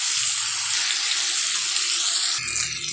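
Water poured into dry fish masala frying in a pan makes a loud, continuous rushing hiss that changes abruptly near the end.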